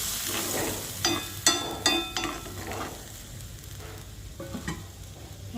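Onions fry in a pan for an egg dish, crackling and sizzling close by while a spatula scrapes and clinks against the metal in a few sharp strokes before the frying settles into a softer hiss.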